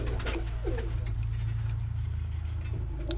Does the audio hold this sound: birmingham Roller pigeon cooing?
yes